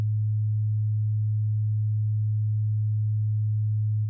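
A pure sine tone at 107 cycles per second, the right-ear half of a binaural beat, hums alone at a constant low pitch and steady loudness, then cuts off at the end.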